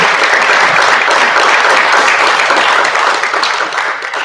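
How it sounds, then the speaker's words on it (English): Audience at a school board of education meeting applauds a retiring teacher, a steady, dense wash of clapping from many hands that holds loud throughout and thins slightly toward the end. "So I'd like a nice round of applause for all of those"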